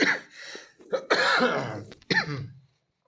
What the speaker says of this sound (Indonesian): Maaf batuk nih.